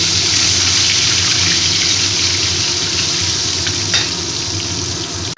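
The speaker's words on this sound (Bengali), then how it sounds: "আমি আলুগুলোকে আবার ভেজে নেব" Potatoes fry in hot oil with a loud, continuous sizzle that hisses steadily throughout.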